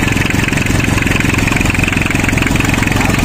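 A Mazda B2200 pick-up's diesel engine idles close up with a steady, rapid, even clatter and no voices over it.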